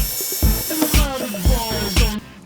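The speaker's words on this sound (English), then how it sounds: "we're gonna start with this step bit here" A power drill with a step bit cuts into a 2024+ Toyota Tacoma bed, a series of short whining bursts that rise and drop in pitch, stopping and restarting several times close by.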